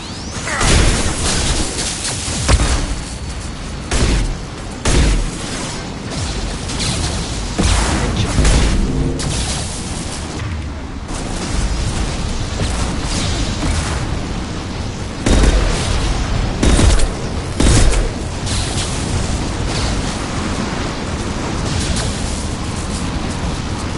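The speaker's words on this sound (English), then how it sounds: "Watch out, flashbangs!" Flashbang grenades burst during combat in Mass Effect 2, loud repeated booms and crashes layered over continuous dense battle noise.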